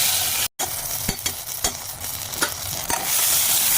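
Cumin, chili, bay leaf and ground spice paste fry in hot oil for an egg curry, a bright steady sizzle broken by repeated scraping stirs, close up, with a momentary dropout near the start.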